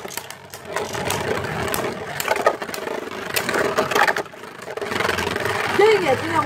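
Beyblade Burst tops whir and scrape against each other in a plastic battle stadium, with gritty grinding clashes and rattling hits near the mic while children talk excitedly over the battle.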